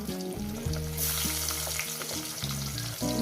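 Fish pieces sizzling steadily in hot oil in a pan for a Bengali fish curry, a loud continuous crackle with low tonal hum underneath, no talking.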